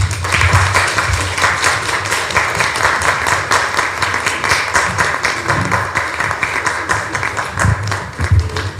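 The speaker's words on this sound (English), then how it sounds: "we just start clapping for them" A conference audience at Innovation Week 2022 in Dar es Salaam gives the panelists a sustained round of applause, dense close clapping with a few louder taps that carries on throughout.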